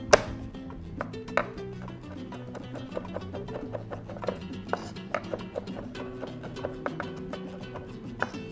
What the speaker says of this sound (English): Press the garlic down, and then we chop across. Make it really fine.